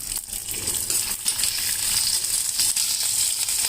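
Cumin, fenugreek and dry red chillies sizzle steadily in hot oil for a pickle, a continuous bright crackling hiss with small pops, close up and with no talking.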